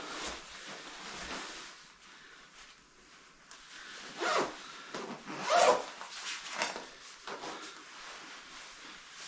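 A zipper on the inner pocket of a cheap electric heated garment is pulled closed in a few quick, close rasps, with soft fabric rustling between them.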